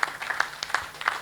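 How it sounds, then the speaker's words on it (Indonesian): A short burst of scattered hand clapping from a small crowd at a press conference, uneven and fairly close. "Jadi sekali lagi tepuk tangan dulu buat teman-teman Smesco"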